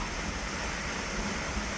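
A canyon waterfall spills as a steady, dense roar of rushing water. The sound is continuous and fairly loud, with no break and no voices.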